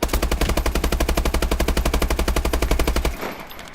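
A Bal-27 rifle fires in the video game Call of Duty Advanced Warfare, a loud, rapid automatic burst of evenly spaced shots for about three seconds, then stopping as a short tail fades.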